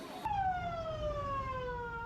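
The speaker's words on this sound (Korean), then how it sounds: "좁은 골목길에 소방차가 줄지어 들어오지만" A fire truck siren wails during a fire drill as trucks file into a narrow alley, a loud, steady falling tone that starts abruptly after a brief noisy moment, with no talking.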